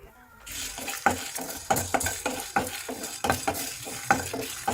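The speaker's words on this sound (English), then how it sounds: "So I will roast this for it to get little bit golden." Coriander seeds, black pepper and dried red chilies dry roasting in a kadai, stirred with a spatula in steady scraping strokes, with a soft crackle and repeated light clatters against the pan at close range.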